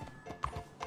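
Horse hooves clip-clop in the Red Dead Redemption 2 video game, a few quick hoofbeats sounding faintly over a soft background.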